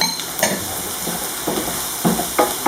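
Bell peppers, red and green, stirred with onion as they fry in a pan, a steady sizzle broken by repeated utensil scrapes and stirring strokes at close range.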